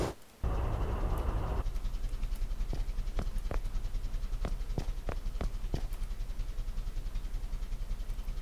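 A train in the video game Brick Rigs rumbles along with a low, continuous engine drone, broken by a burst of noise early on and then a series of evenly spaced sharp clicks, like wheels passing rail joints, with no talking.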